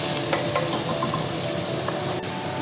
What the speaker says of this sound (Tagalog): prito niya na yung isda